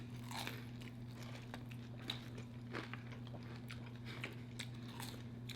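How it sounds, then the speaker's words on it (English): Crunchy batter-fried flounder is bitten and chewed close up, giving soft, irregular crackling crunches over a steady low hum; no talk. "boy, this batter got a crunch on it"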